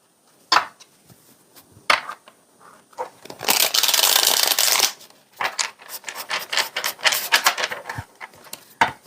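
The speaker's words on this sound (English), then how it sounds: "Let me shuffle these one more time." Tarot cards being shuffled: crisp riffling bursts and sharp taps, then a sustained flurry of rapid fluttering, followed by more quick clacks, all close up.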